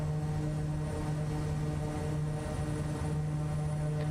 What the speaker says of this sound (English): All right, bring up the throttles.